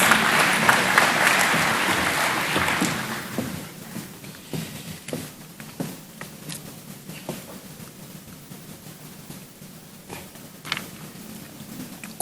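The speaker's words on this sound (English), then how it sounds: "Mr. Chefuta, can we give him a round of applause?" Audience applause at the opening of a two-day jobs summit, a dense burst of clapping for the community convener that fades after about four seconds into scattered claps and light room noise.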